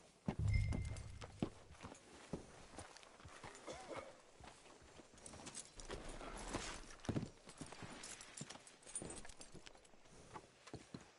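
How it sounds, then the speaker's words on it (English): In the video game Red Dead Redemption, horse hooves clop at a slow walking pace on hard ground, steady and fairly quiet, with a few louder thumps early on. "Hitch your horse up here."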